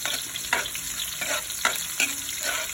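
Aromatics frying for pork adobo give a steady sizzle, broken by a few sharp scrapes and stirs at roughly even intervals, close and moderately loud with no talking.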